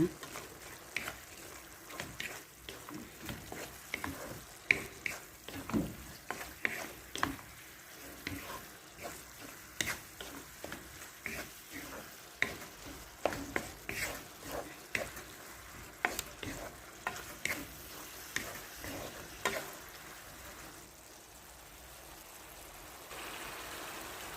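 Sambosa meat filling seasoned with baharat, curry powder and black pepper stirred in a frying pan, giving a steady soft sizzle broken by repeated scraping and clacking strokes of the utensil throughout.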